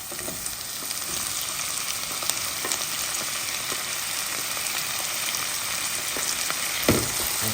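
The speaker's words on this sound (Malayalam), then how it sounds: "നമുക്ക് ഇതിലേക്ക് നമ്മുടെ ടൊമാറ്റോ ഇട്ട് കൊടുക്കാം." Steady close-up sizzling of tomato dropped into hot oil with browned onions, a dense crackling hiss throughout with occasional stirring scrapes and a sharper burst near the end.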